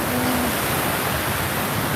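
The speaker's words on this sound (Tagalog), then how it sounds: "Ang sarap pakinggan ng sounds ng ano, no? Mga alon-alon, oh, ang sarap." Ocean waves at Agan-an Beach make a steady, loud wash of broadband surf noise with no distinct breaks, close and continuous, with no talking.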